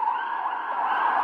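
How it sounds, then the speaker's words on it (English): Wailing emergency vehicle sirens in Jerusalem, a steady sustained wail carrying through the whole moment at moderate distance with no talk over it. "You can hear the sirens in the background."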